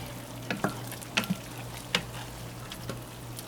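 Cubed salmon stirred into a seafood paella cooking on a Big Green Egg grill, a soft sizzle under a low hum, broken by a few sharp scrapes and clicks of a utensil against the pan.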